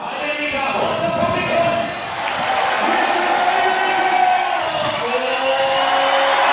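A crowd at a bouldering competition final roars and cheers loudly and continuously, with a commentator talking over the din.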